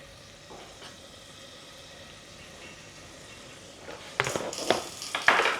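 Butter and flour roux sizzling and being stirred in a pan, a soft steady frying hiss that grows louder and busier toward the end as the mixture is worked.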